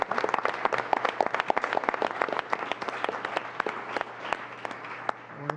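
Audience at a Cuyahoga Land Bank event applauding, a burst of dense hand clapping that thins into scattered sharp claps as it fades, with a low hum underneath.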